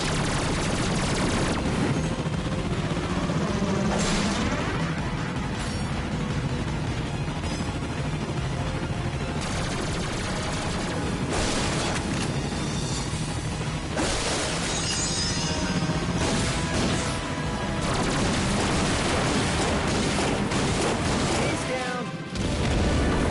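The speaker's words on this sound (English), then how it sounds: "Ratchet, what in Sony's name just exploded?" Dense, continuous barrage of gunfire and explosions in the Ratchet & Clank game, with booming blasts and shattering crashes layered over sustained loud combat noise.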